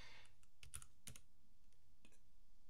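Several quiet key clicks on a Mac keyboard as the cd command is typed, a short burst of taps then a few separated strokes, close and faint, with no talk.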